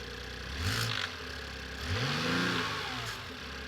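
The engine of a BMW i8 hybrid sports car, running again after a repair, revs in two short rising bursts that settle back to a steady idle, heard close with no talking.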